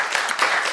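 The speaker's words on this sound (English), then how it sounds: "I'd like to just give a round of applause to our panelists for a wonderful" Short burst of audience applause for panelists at a know-your-rights session on racial profiling, steady and fairly close with no voices.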